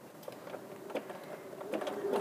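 A sewing machine stitches a zigzag seam in fabric, giving a faint, quick mechanical whirr with soft rhythmic clicks, heard close and alone.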